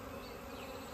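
Honey bees from a hived swarm buzzing around a Langstroth hive box, a steady dense hum filling the moment, moderately faint and continuous, with no voices.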